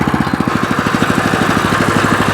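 A walk-behind motoblock tractor engine runs in reverse gear, a loud, close single-cylinder putter with rapid even chugging pulses that hold steady throughout, no voices.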